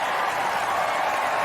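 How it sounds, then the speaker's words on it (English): A golf gallery applauding at the par 5 16th hole during a Rory McIlroy match, a broad steady wash of distant clapping and crowd noise with no single voices standing out. "The crowd's very happy about that one"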